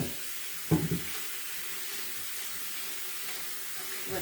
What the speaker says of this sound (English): Rinse off my cutting board.